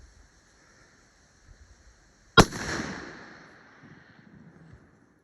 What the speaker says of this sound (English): Well, I just shot a bear. The shot felt pretty good.